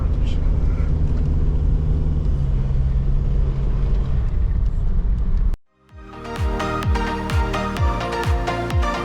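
A car drives along a wet, muddy dirt road with low, steady rumbling road and engine noise for about five seconds, then the sound cuts abruptly to music.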